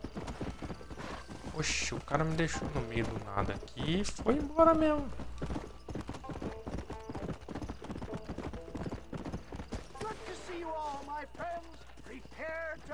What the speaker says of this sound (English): Ó, o cavalo botou sela nele sozinho.